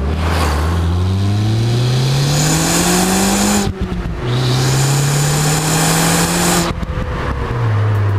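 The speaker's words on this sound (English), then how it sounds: "the stock exhaust on the Polo sounds a little weak" A Volkswagen Polo on its stock exhaust revs hard and loud up through the gears, the engine note climbing steadily in long pulls broken by two quick shifts, close to the listener with no talk.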